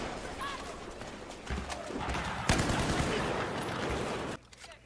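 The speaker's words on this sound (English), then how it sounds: "we're under heavy fire" Video game gunfire crackles in rapid bursts and sustained volleys, loud and close, with a sharp heavy burst midway before cutting off abruptly near the end, while people talk over it.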